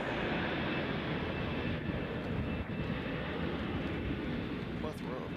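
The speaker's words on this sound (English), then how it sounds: "Plethora of aircraft." Aircraft noise rumbles steadily at Nashville International Airport, a broad, continuous roar of engines at moderate distance with a faint rising whine near the end.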